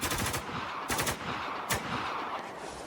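Automatic gunfire in the shooter game Spec Ops: The Line, dense, loud bursts of rapid shots that keep rolling with short gaps, no talk.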